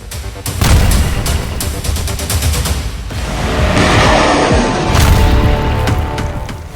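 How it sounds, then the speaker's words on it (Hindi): Missile explosions from Israeli strikes land as loud, heavy blasts. Rapid crackling reports come first, then deep rolling booms and rumbling that swell and fade. "इजराइल मिलिशिया फाइटर्स को मिसाइल धमाके से उड़ा रहा है।"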